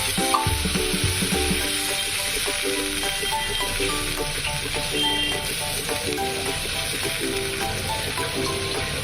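Water poured into fried spice paste in a hot pan for a coconut paste tofu dish sets off a loud, steady sizzle and bubbling that continues throughout, with occasional stirring.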